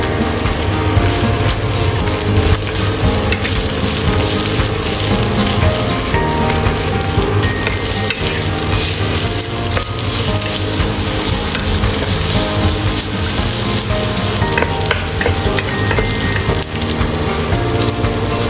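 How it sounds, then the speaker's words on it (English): Onion stir-fries in a hot pan for onion egg noodle soup, a dense continuous crackling sizzle with occasional faint clicks from the pan, steady and close throughout. "Stir fry onion until translucent."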